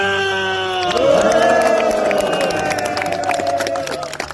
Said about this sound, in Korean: 다시 한번 3초간 뜨거운 박수하고 함성 부탁드리겠습니다